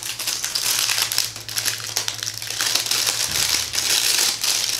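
Clear plastic wrapping crinkles and crackles loudly as it is pulled off a Desi brand eyeshadow palette, a steady close-up rustling that runs without a break.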